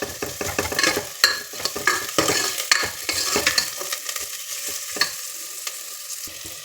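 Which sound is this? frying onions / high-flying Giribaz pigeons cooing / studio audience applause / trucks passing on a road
frying onions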